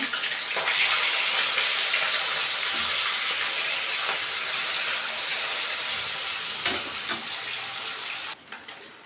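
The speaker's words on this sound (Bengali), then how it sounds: "মাছটা আমি উল্টে দেব এখন" Fish pieces frying two at a time in hot oil give a loud, steady hiss and crackle at close range. Near the end a brief shift marks a piece being turned over.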